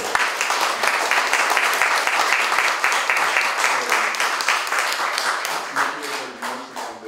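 Audience applause at a talk or lecture, dense steady clapping filling the whole stretch and thinning slightly toward the end, with no voices over it.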